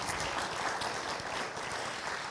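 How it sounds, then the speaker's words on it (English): Steady applause from a crowd, dense continuous clapping at even volume throughout, with no voices standing out. "please give, give them a round of applause"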